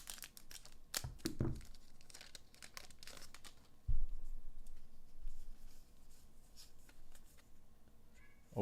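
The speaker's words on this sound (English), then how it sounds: "I got a stack of garbage to the right of all these packs. Just ripping and ripping and ripping." One Piece trading card booster packs being torn open one after another: close, quiet crinkling foil and ripping bursts with scattered rustles and a soft thump, in an irregular rhythm.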